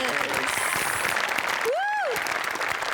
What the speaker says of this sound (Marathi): आर्ट डिपार्टमेंटसाठी आपण सगळे जोरदार टाळ्या वाजवूया